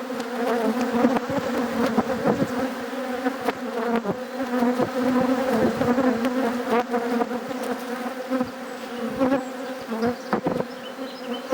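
Honeybees from a strong colony buzzing loudly around an opened LR hive, a dense continuous hum close by with individual bees zipping past throughout.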